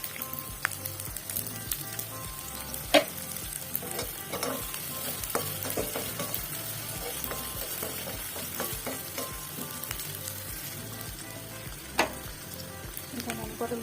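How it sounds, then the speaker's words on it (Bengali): Chopped onions sizzle steadily in hot mustard oil, a dense continuous frying hiss with periodic scraping and stirring clicks from a utensil against the pan, close and loud. "সরষের তেলের মধ্যে পেঁয়াজ কুচি দিয়ে দিলাম"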